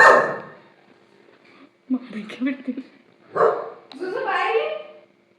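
A dog barks in a few short, sharp bursts at close range, with gaps of quiet between them and people talking nearby.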